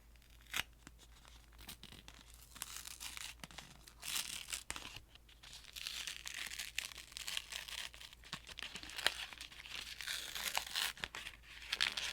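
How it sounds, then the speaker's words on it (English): A chocolate bar's wrapper is torn and crinkled open during a snack tasting, with many quiet close-up rips and crackles that come in irregular bursts over a faint background hiss. "I really do like chocolate bar sounds"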